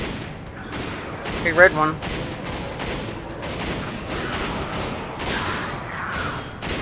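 Gunfire in the video game Resident Evil 5: bursts of rapid shots with a sharper crack near the start, over a steady game soundscape, while a player talks.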